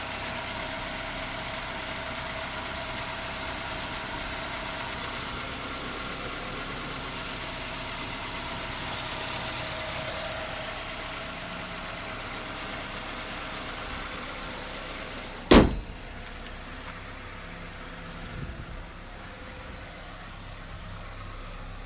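A 2011 Ford Ranger pickup with about 140,000 miles idles after startup, a steady mid-pitched engine hum with a brief sharp clunk near the end, no voices.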